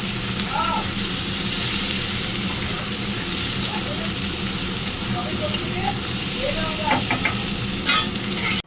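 Aloo posto, potatoes with poppy seeds, sizzles steadily in a pan while a spatula scrapes and stirs at intervals, with brief clinks and a voice speaking in the background.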